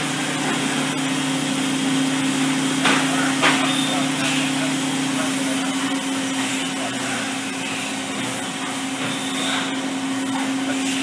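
A Makino A77 CNC horizontal machining center spindle runs at 9,000 RPM, giving a steady, loud whine with a constant tone under a broad machine hiss that stays even throughout, with a few faint clicks near the start.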